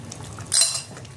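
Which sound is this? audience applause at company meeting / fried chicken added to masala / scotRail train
fried chicken added to masala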